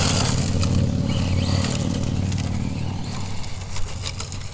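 A Tamiya RC Mitsubishi Lancer Evo V on a torque tune motor drives close by with a steady electric whine and rattling chassis noise over bumpy ground, and the sound fades slightly as it moves off.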